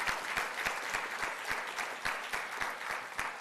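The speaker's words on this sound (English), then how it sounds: "Let's give him a huge round of applause for what he is doing for us." An audience at a SUNY symposium on artificial intelligence applauds the chancellor, with steady, fairly sparse clapping and clearly separate individual claps in a quick rhythm, heard at moderate distance.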